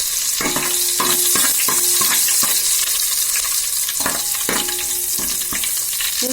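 Garlic frying in three ladles of hot oil, a steady bright sizzle with repeated stirring scrapes and clatters of a spoon against the pan, close and alone with no talk.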